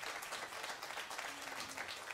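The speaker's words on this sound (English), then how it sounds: "big round of applause to all of you" Audience applause at a live jazz concert at Jazz St. Louis, a dense wash of clapping from a crowd, fairly faint and distant, with no voices standing out.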